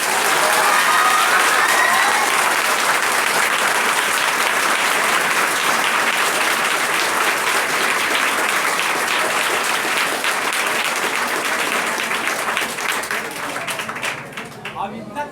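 Children at a seminar applaud in sustained, dense clapping that fills the room loudly for many seconds and then tapers off near the end.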